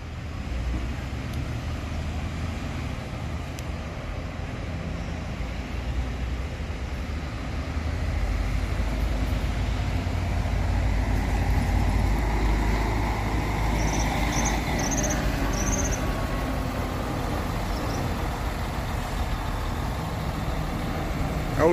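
A Viação Garcia double-decker bus, car 86.079 on the Ribeirão Preto to Foz do Iguaçu route, pulls into the Ribeirão Preto bus terminal with a steady, fairly close diesel rumble that swells midway and holds, with no talk over it.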